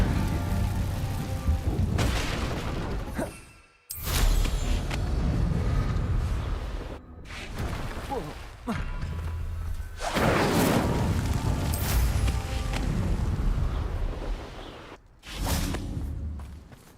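Incendio fire spell cast in Hogwarts Legacy: loud booming bursts and whooshing flame blasts rolling in waves, with brief silent gaps between heavy eruptions.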